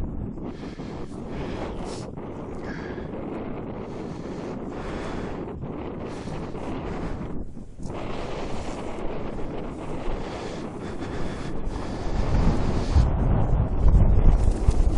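Wind blowing across a campsite where a HighPeak Monodome tent is being pitched, gusting into the microphone in uneven surges that grow louder toward the end, with no voices.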